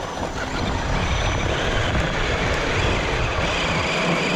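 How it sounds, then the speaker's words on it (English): A truck drives slowly forward while its winch spools out cable, giving a loud, steady, dense rumble of engine and mechanical whir that holds constant throughout. "Driving forward, spooling out the cable like that."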